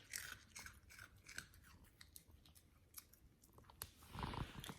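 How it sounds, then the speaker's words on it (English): Pet crunching and chewing dry food up close, a quick irregular series of crisp crunches and bites, quiet overall with a louder burst of chewing at the end. "Listen at that crunch."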